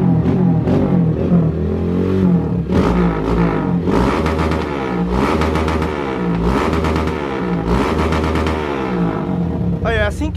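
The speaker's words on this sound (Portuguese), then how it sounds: "é assim que esquenta a moto" A motorcycle engine revs repeatedly in rising and falling bursts, loud and close, with idling between the throttle blips.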